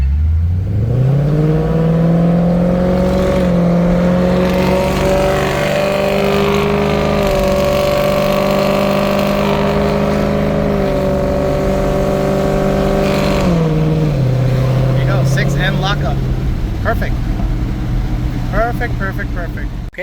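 A Ford GT500 with a swapped-in 6R80 automatic transmission drives along, its engine droning steadily and loud as the pitch climbs through a gear, holds, then drops and settles toward the end.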